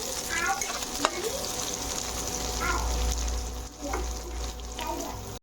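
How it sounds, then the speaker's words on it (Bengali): Chopped onions sizzle and fry steadily in a pan, with occasional stirring scrapes and a low background rumble throughout. "পেঁয়াজ কুচিটা লাল করে ভেজে নেব।"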